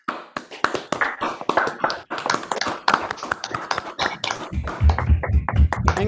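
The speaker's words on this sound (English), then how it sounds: "join me in a huge round of applause for all the organizers" Online meeting participants applaud the organizers with a steady run of close, sharp claps that rise into a denser patter toward the end.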